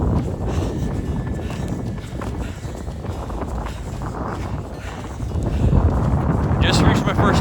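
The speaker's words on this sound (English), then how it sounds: "Nothing like running into the wind." Strong wind buffets the microphone during an outdoor run into a headwind, a steady low roar that swells louder near the end, with faint footfalls underneath.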